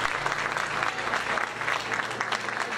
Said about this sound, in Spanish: Manuel Bernardo Castillo, quienes recibieron un aplauso cerrado de los presentes.